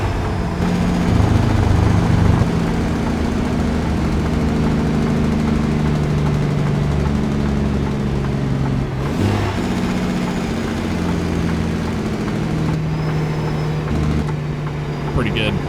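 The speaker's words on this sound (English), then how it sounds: "Listen to that Jake brake." Truck Jake brake on a Coronado in American Truck Simulator, a loud steady low engine drone with rapid chattering pulses running throughout, briefly dipping and shifting around the middle, with talk over it.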